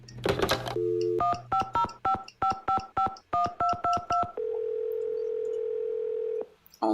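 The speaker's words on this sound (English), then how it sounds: "all I can do is just go call her again and see if it's ready" Touch-tone phone dialing in a Nancy Drew video game: a dial tone, then a quick run of about a dozen evenly paced keypad beeps, followed by a long steady ringback tone, all clean and close with no talk.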